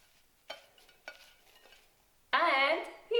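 Chapli kabab mixture with flour and fresh coriander being mixed by hand in a bowl, giving a few soft scraping and clinking touches, then a louder burst of mixing near the end.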